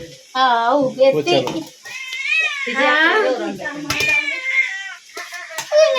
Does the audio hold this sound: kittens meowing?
yes